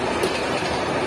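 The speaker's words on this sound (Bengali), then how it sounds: "আমরা ট্রেনে চেপে যাচ্ছি," A passenger train running toward Howrah gives a dense, loud, continuous rumble on the rails, heard from inside the carriage.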